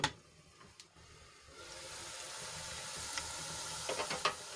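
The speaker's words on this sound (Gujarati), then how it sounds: "ડુંગળીને આપણે ગુલાબી રંગની થાય ત્યાં સુધી ઢાંકીને ચડવા દઈશું" Onions cooking under a lid in a pan give off a soft, steady sizzle that thickens and grows a little louder, with a few faint clinks.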